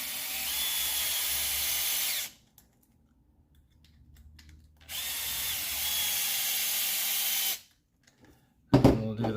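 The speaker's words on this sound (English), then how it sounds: "And let's get the power driver out to make this quicker." A power driver runs screws into the gearbox of a Tekno ET48 2.0 RC car: two close, steady whirring bursts of about two seconds each, separated by quiet pauses, with a sharp clatter of handling noise at the end.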